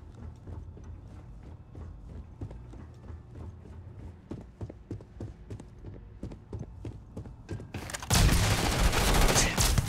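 Gunfire in the sci-fi video game Starfield: rapid, repeated shots crackle at a moderate distance with a steady rattling rhythm, then a loud burst of noisy blasts swells near the end.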